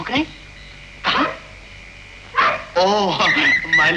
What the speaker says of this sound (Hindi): कुत्ते कब से भौंक रहे हैं?